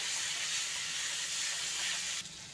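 Chili and spices fry in hot oil with a steady, loud, close hiss and sizzle that continues throughout and dips slightly near the end, with no voices.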